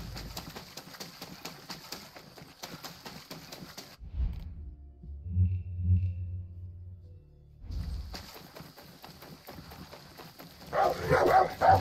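A dog barking in the video game Far Cry 6, a few muffled barks during a quiet gap between stretches of game background noise, at moderate level.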